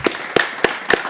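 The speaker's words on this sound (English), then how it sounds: "Please give him a round of applause" Audience applause for a speaker at a franchise day event, with four sharp, evenly spaced claps in a little over a second, loud and close.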